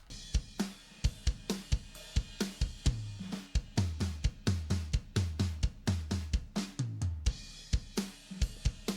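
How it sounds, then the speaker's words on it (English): A pre-mixed multitrack drum kit recording plays back, with punchy kick and snare hits, booming toms and cymbal wash in a steady rock groove, close and full, with no talk. "that's the drums pre-mixed"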